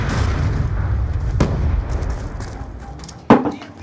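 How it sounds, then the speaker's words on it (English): Flashbang grenades going off in a first-person shooter video game, a dense rumbling bed of game noise punctuated by two sharp bursts, one midway and a louder, closer bang near the end. "nope, flashbangs."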